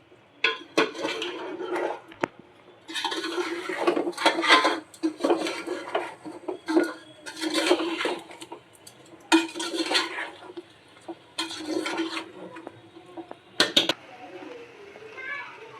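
A spoon stirs muthiya dhokla in a pan, making repeated bursts of scraping and clattering against the metal, loud and close, separated by short pauses.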